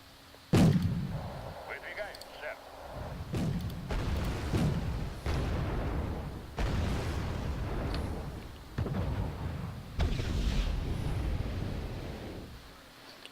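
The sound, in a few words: gunfire and artillery in Wargame AirLand Battle video game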